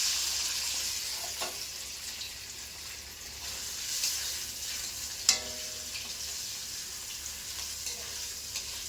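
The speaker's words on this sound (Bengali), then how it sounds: "এবারে আমি এর মধ্যে এখন দিয়ে দেব আলুগুলোকে বেশ লাল লাল করে ভেজে নেব" Potatoes fry in a pan until browned, giving off a steady, close sizzle. A few sharp clinks and scrapes of stirring cut through the sizzle, with no voices.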